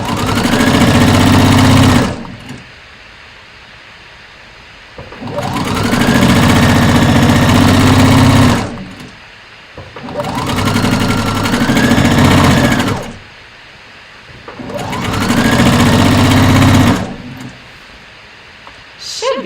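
A sewing machine stitching fabric, with four loud close bursts of rapid mechanical whirring, each a few seconds long, separated by quieter pauses.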